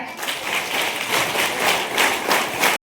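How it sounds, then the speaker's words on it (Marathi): An audience at a school farewell ceremony bursts into loud, sustained applause for the teachers, dense clapping holding steady for about three seconds before stopping abruptly. "कृपया त्यांच्यासाठी एकदा जोरदार टाळ्या होऊन जाऊ द्या"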